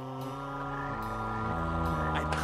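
Cartoon frogs croak in a loud, buzzy, rattling drone that holds steady through the short moment, heard close with no talking.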